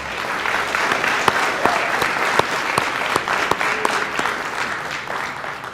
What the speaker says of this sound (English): If we could give them all a round of applause.